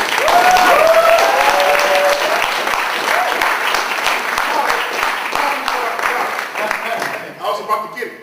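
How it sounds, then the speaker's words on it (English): A crowd gives loud, sustained applause for the host's partner, dense clapping with cheering voices on top that gradually thins and fades near the end. "give another big round of applause for my support system"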